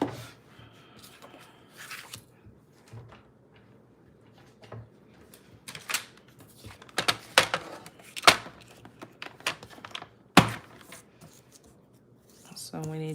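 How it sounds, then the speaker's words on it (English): Cardstock being cut down to size for a handmade graduation card, with scattered sharp snips, rustles and taps of paper on a desk between quiet pauses, close up and intermittent. "So I might have to cut this down."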